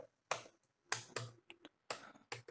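Computer keyboard typing while writing backend code, heard as a few separate clusters of crisp, close key clicks with short silent gaps between them and no talking.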